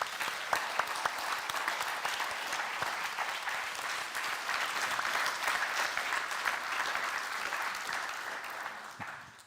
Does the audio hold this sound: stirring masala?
no